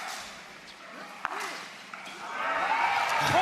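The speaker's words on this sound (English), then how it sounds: "the crowd erupts for Jaume" Crowd at a professional pickleball world championship match between Federico Staksrud and Jaume Martinez Vich erupting in cheers and applause, swelling louder toward the end, with a commentator talking over it.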